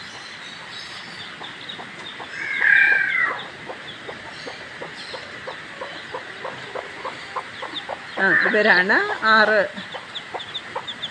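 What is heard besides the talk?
chickens clucking in a farm coop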